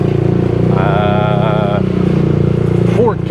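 A motorcycle rides at a steady engine drone with a rising harmonic whine partway through, close and continuous, ridden on a sunny morning in Angeles City, Philippines.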